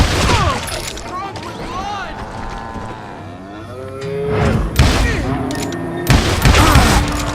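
Gunfire from the western shooter Call of Juarez Gunslinger: a few loud, sharp bursts ring out mid-clip and near the end, over a busy bed of in-game shouts and low, groaning character voices.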